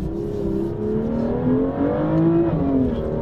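A BMW M2 engine revs hard while drifting, its tone climbing and wavering through rising and falling pitch as the throttle works, loud and close with no talk.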